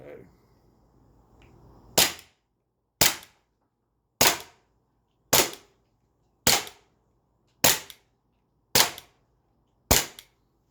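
A CO2 blaster firing with a tuned magazine: eight sharp, loud, close shots spaced about a second apart, each cracking then fading quickly, after a brief faint rustle at the start.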